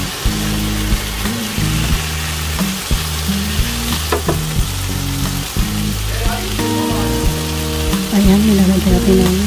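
Carrots being stirred into cabbage frying in a pan, a steady close sizzle with stirring scrapes throughout, under continuous background music with sustained tones.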